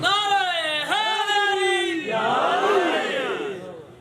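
A congregation at a Lahore majlis chants a slogan in unison, with loud, resonant massed voices in two drawn-out phrases.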